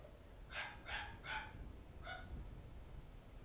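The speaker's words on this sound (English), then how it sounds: "My dog is barking because I have clapped." A dog gives four sharp barks, three close together and one after a short pause, fairly faint against quiet background noise.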